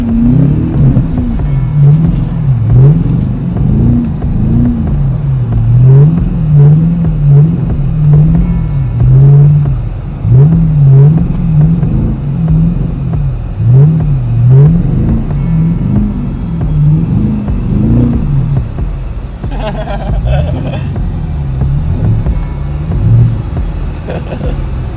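A tuned Chevrolet Camaro SS V8 revs and drones steadily in the snow while sliding, its engine note rising and falling in waves, with a brief change near the end.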